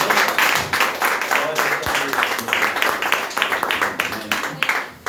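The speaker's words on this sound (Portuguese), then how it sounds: "Dê uma salva de palmas para o Senhor Jesus." A church congregation claps together for a few seconds in a steady, fairly loud patter, with speech audible alongside the applause.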